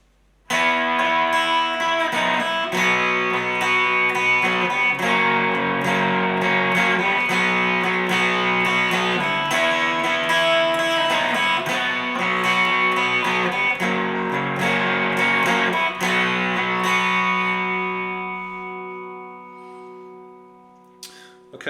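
Electric guitar plays a song's chorus section as sustained, effects-laden strummed chords, steady and close, before ringing out and fading at the end.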